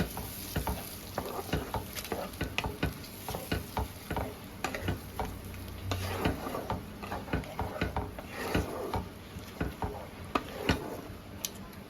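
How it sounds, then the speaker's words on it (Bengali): Spices with red chilli powder and a splash of water are sautéed in a pan under constant sizzling, punctuated by rhythmic, close scraping strokes of a spatula stirring them. "এবার আমি মশলাগুলো ভালো করে কষিয়ে নেব"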